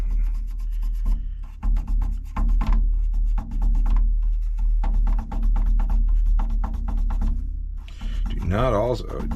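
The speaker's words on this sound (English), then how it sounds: "Do not use anything too abrasive with these. This is just a very soft fiberglass pen." A soft fiberglass pen scrubs badly oxidized metal contacts during a Centipede arcade repair. A steady close scratchy rubbing goes on throughout while someone talks over it.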